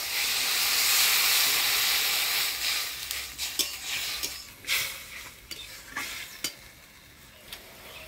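Water hits fried jute greens in a hot pan, starting as a loud, broad sizzle and hiss that gradually quiets, followed by intermittent scraping and clinking of a spatula stirring the pan.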